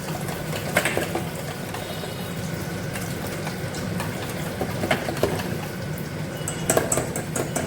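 Batter for crispy fried eggplant beguni being whisked in a bowl with oil added, a steady wet clatter of utensil against the bowl with a few sharper clinks, close and continuous with no talking.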